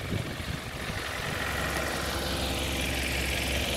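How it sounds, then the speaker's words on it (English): A 2014 Optare V1150 Metrocity single-deck bus with a Euro 6 Mercedes engine and Allison automatic gearbox idles steadily, a close, loud, continuous low rumble and mechanical hum with no speech over it. "Mercedes engine, that is driven through an Allison fully automatic gearbox."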